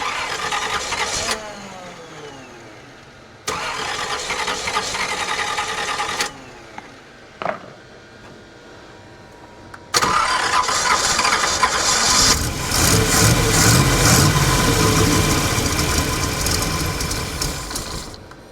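A 1969 GMC truck engine, dormant for 30 years, cranks in several separate bursts with pauses between, then catches and runs roughly at a loud idle that swells and fades near the end.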